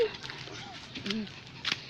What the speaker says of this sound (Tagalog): Ayun pa, may aso pa.